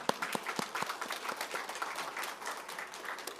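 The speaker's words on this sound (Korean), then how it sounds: "우리 하나님께 영광의 박수 올리시겠습니다." A church congregation in Gwangju applauds during a New Year's Eve watchnight service, with distinct individual claps standing out from a moderate, somewhat sparse round of clapping and no speech.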